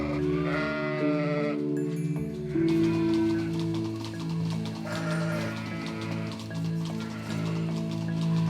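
Ewes bleating on a farm on the Causse where sheep are raised for cheese, several overlapping wavering calls, loud and close, with a lower bleat joining partway through and continuing steadily.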